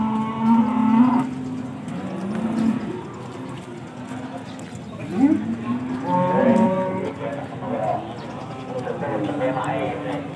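Pegon cattle moo repeatedly at a rainy open-air livestock market, with several long, low calls close by while people talk in the background.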